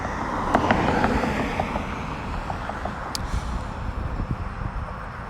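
A big Suburban SUV approaching fast on a road, a broad rushing engine-and-tire roar with wind buffeting, steady and fairly loud throughout, no voices.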